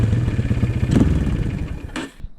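A Honda CRF230 dirt bike engine idling with a steady, slightly uneven thumping putter up close, a couple of sharp clanks over it, fading toward the end.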